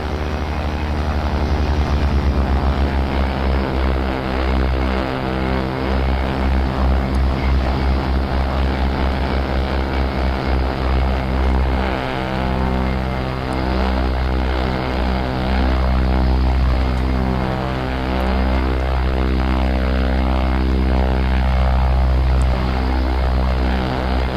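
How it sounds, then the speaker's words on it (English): An OV-10 Bronco twin-propeller aircraft taxis in the DCS World flight simulator, a loud, steady engine drone with a thrumming propeller beat and shifting overtones that hold throughout. "we'll be taxiing out to the runway"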